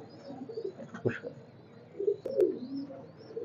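Teddy pigeons of KTM and Oman bloodline coo softly nearby in a few low, rolling bursts, with quiet shuffling between calls and no talking.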